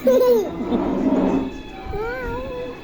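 A child imitates a cat's meow, giving a few drawn-out, wavering mews close by, with adult voices coaxing around the calls.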